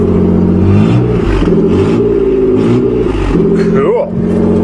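A 1986 Nissan 4x4 pickup truck with a 5-speed cranks and catches, its engine revving and then settling into a running hum, with someone talking over it close by.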